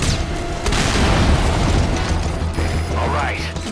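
Deep booms and crackling bursts of targets exploding in the video game Metal Gear Solid: Ground Zeroes, a rumbling blast swelling and fading over a few seconds amid game effects.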